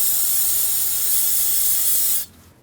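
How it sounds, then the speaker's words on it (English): A can of aerosol brake parts cleaner sprays in one continuous loud hiss onto the brake bleeder of a 2001-2009 Volvo S60, then cuts off abruptly. "Now we'll just clean this off with a little brake parts cleaner."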